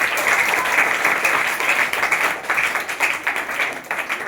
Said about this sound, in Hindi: तो सर्वप्रथम फिर से इनके लिए जोरदार तालियां।